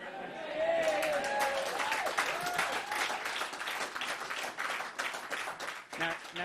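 A crowd breaks into sustained applause at a political leadership campaign launch, many hands clapping loudly together for several seconds, with a voice faintly audible at the start.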